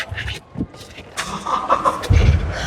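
A Toyota Revo 2.4 pickup truck engine cranks and turns over, then catches into a low rumbling idle, with some faint background voices.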